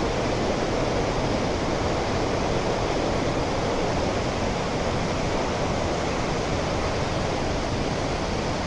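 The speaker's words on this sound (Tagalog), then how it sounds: "Ang lakas pala ng agos, oh." A strong river current rushes in Jasper, a loud, steady, unbroken roar of water close by, with no pauses for the whole stretch.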